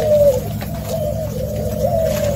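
Pigeons cooing steadily at close range, a low rolling coo repeating through the whole stretch with no voices over it.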